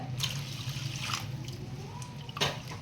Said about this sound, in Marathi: गरम पाणी घालूया